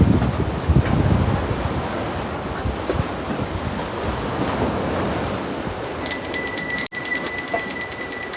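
Sea waves wash onto a sandy shore at Mandwa, Alibaug, a steady broad surf roar mixed with wind buffeting the microphone, followed near the end by a sudden burst of bright ringing noise.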